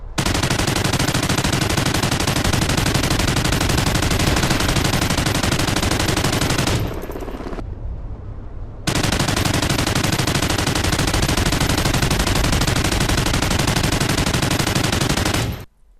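A Chain SAW light machine gun in Call of Duty Ghosts fires long, loud sustained bursts, unbroken except for one short gap midway, with no talking over it.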